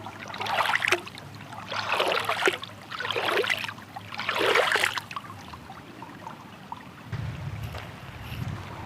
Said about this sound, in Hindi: ये मेरे पीछे पवित्र जलधारा गौतमी गंगा नदी जो आश्रम के ठीक तलहटी में बह रही है